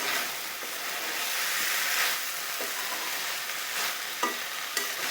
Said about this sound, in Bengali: ভালোভাবে কষায় নিতে হবে